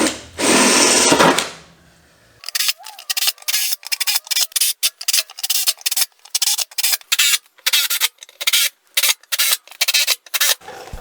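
Holes are being drilled in metal for a snorkel install on a D22 Navara: after a brief loud burst, a drill bites in a long series of short, choppy bursts with gaps, close and without talk.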